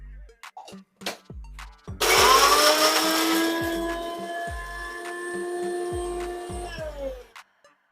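A kitchen mixer grinder blends green chilies, coriander leaves, cumin, garlic and salt into a paste, starting abruptly with a loud high whine that holds steady for several seconds before cutting off, surrounded by knocks and clatter.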